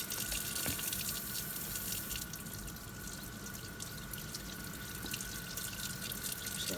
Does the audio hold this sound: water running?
yes